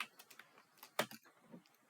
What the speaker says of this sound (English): We can manually change the scale by typing in a different number.